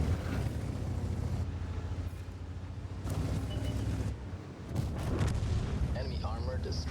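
Artillery strikes land in a tank video game as heavy rumbling booms and blasts under dense continuous battle noise, loud and close, with a short dip in the middle.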